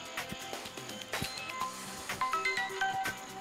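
A telephone ringback tone sounds after a number is dialled in a Tamil film scene, with repeating electronic tones and chirps over a busy background.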